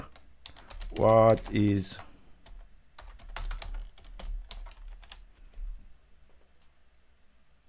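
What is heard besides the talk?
typing on a computer keyboard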